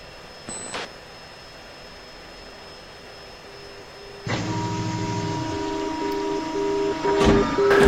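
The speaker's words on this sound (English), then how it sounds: "You can hear the marker beacon warning me that I'm at the FAF" Marker beacon in the Falcon BMS flight simulator game, a steady repeating electronic tone pulsing over constant jet engine and cockpit noise, loud and close, with a brief click early on.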